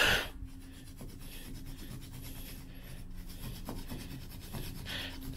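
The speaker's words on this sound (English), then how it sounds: "Use this bone scraper to kind of break that down" A bone scraper rubs and scrapes at gum stuck in carpet fibers inside a rental home, giving a steady close rasping scrub with a few sharper strokes, alone without talk.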